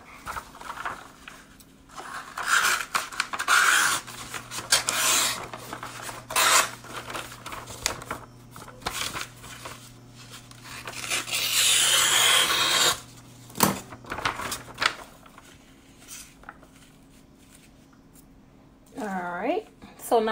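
Scissors or a cutter slice through sublimation paper for a heat-press onesie project, a steady rasping, scraping sound of moderate loudness running through much of the clip, with a brief voice near the end.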